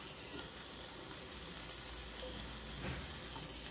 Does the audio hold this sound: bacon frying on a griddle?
yes